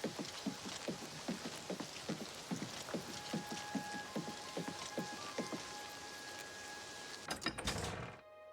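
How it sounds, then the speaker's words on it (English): Rain falls steadily in the video game The Elder Scrolls IV: Oblivion Remastered, a soft continuous patter with regular thudding footfall-like beats. A brief clatter sounds near the end, and the whole scene stays fairly quiet. "kind of wish it would stop raining."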